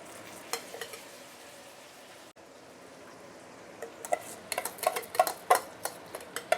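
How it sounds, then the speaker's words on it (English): Washed white rice stirred with cured meat in a wok over the lowest heat: a soft sizzle at first, then a quiet gap, then a run of sharp spatula scrapes and taps against the wok. "This is where I'm going to add in the washed white rice."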